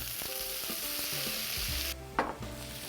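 Clams and ingredients for vongole pasta sizzle in oil in a pan, a steady close frying hiss with stirring clinks and a brief louder spatter near the end, no voices.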